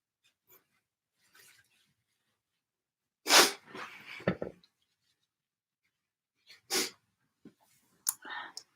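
A man sneezes loudly and close up, first one explosive sneeze followed by sniffing and rough breathing, then more sharp sneezes and nose sounds scattered through otherwise quiet stretches.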